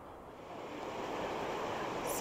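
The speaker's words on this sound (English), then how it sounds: "really close to a beautiful waterfall here" Steady rushing water of a waterfall in Yosemite Valley, a broad hiss that slowly swells louder, with a brief bump of noise right at the end.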